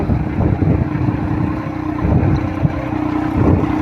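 A tractor pulling a mini seed drill while sowing kalonji seeds in a field, its engine droning steadily and loudly with a low rumbling hum and wind buffeting the microphone.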